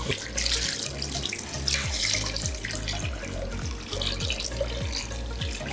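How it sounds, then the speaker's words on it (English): Settled corn solution poured off the top into a vessel while making Ghanaian Akpa Detsi tilapia soup, a steady close liquid stream splashing continuously with no talk. "so you notice how it's just the top of the solution that's pouring"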